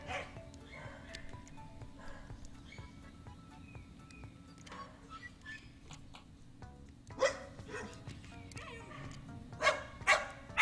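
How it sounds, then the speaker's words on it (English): Dogs bark and yip in bursts, with several sharp, louder barks near the end, sounding close, and a faint low hum runs underneath throughout. "now that you can hear the dogs for the first time, should I hit mute on my microphone when they start barking?"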